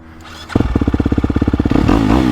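A 2022.5 KTM 250SXF Factory Edition dirt bike engine starts after a brief quiet moment, pulsing in a quick, even loud rhythm before rising into a steadier, stronger drone close by.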